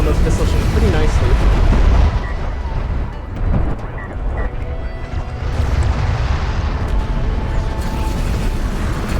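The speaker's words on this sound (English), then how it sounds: "Uh-oh, missile barrage here." Missile barrage explosions in a space strategy game, a dense, loud rumbling roar of booms that briefly drops and then swells again, under excited commentary.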